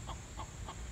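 Chickens cluck softly nearby: three short, evenly spaced clucks over a low background rumble.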